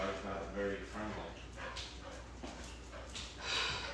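A dog barks outside with a few sharp yips and whimpers, fairly faint and mixed into people talking nearby.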